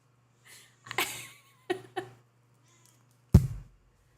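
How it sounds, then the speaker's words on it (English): A cat meows several times in short, separate calls, with one louder, sharper cry near the end, over a low steady indoor hum. "Do you hear the cat?"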